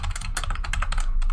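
Rapid keystrokes patter on a computer keyboard in a quick, irregular run of close, crisp clicks over a low background hum, with no talking.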